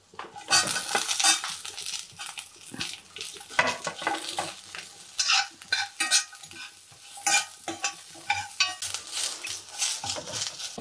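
Onions and ginger frying in a pan, with steady close sizzling and frequent scraping clatter as a utensil stirs against the metal for about eleven seconds.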